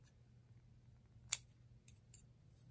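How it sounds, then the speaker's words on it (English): Scissors snip the end of crocheted yarn in a quiet room: one crisp close cut followed by a couple of softer snips or clicks against faint background hum. "Okay, I'll trim that off."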